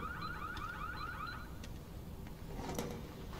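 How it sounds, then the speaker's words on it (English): A car alarm sounds inside a shop in the video game Need for Speed Unbound, a steady, repeating warbling siren cycling rapidly, fairly loud and close, with a few clanks and clatters in the room toward the end. "Kid, you triggered the alarm system."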